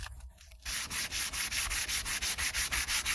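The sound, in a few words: sanding a guitar finish with 320 grit sandpaper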